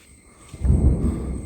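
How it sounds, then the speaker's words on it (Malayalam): Thunder rumbles during a storm in Kerala: a deep, low roll swells in after a quiet start and carries on steadily without fading by the end. "നന്നായിട്ട് ഇടിവിട്ടുണ്ട്"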